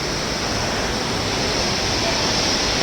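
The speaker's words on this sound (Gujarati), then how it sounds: "વરસાદ અત્યારે જો ફૂલ ચાલુ થઈ ગયો છે અને અડધી તો ગાડી ડૂબી ગઈ છે, એટલો તો વરસાદ આવે છે" Heavy rain pours down around a truck half sunk in floodwater on a road in Morbi. The downpour makes a dense, unbroken roar from start to finish.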